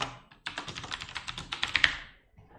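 A password is typed on a computer keyboard in a quick close burst of about a dozen light key taps lasting under two seconds, followed by a single faint click, with no talk.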